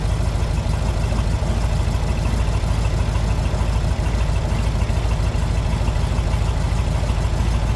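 A 1960 Volkswagen Beetle Convertible engine idles steadily and evenly, a smooth continuous rhythmic putter heard up close with no talking.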